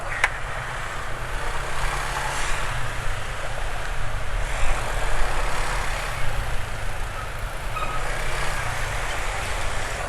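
A car engine running on Win Formula 20W50 oil idles with a steady, close, even drone and light mechanical chatter, with no voices.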